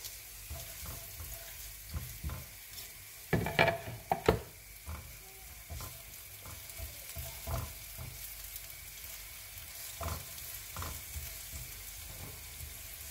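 Half an onion fries in a tablespoon of oil with a quiet, continuous sizzle, punctuated by occasional stirring clicks and a few louder scrapes near the start.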